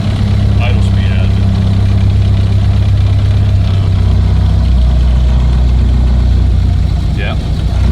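Engine of a 1930 Ford car idling while warming up, a steady, loud, low rumble close by that runs throughout, with a person talking over it.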